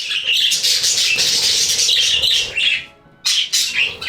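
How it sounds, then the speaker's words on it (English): Budgies and a cockatiel chirp and squawk in a dense, continuous morning chorus on a sunny morning, close and loud, with a brief pause near the end before the chatter resumes. "The Budgies and Cockatiel are singing morning songs to my neighbors."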